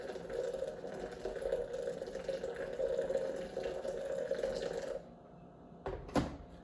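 Steady stream of water pouring into a French press coffee maker for about five seconds, then stopping, followed by a couple of soft clinks and drips.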